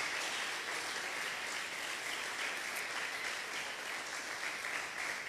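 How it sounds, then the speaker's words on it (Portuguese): A church congregation applauds a couple celebrating 50 years of marriage, with steady, continuous crowd clapping at a fairly faint, even level. "Queria uma salva de palmas para eles."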